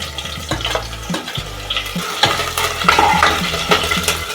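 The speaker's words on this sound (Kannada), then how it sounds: "ಈಗ ಈರುಳ್ಳಿ ಹಾಕ್ಕೋತಾ ಇದ್ದೀನಿ" Onions dropped into hot cooking oil in a pressure cooker sizzle and fry for a chicken stew, with steady crackling and a few stirring scrapes and clinks of a spoon against the pot, close up and without talk.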